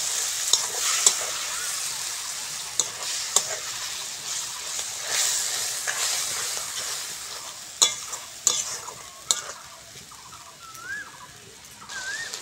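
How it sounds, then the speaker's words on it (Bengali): Spice paste of cumin powder, green chilli and a little water being stirred and fried in a pan for potato curry, with a continuous soft sizzle and repeated scraping stirs close by. "এবার ভালো করে মশলাটা কষবো।"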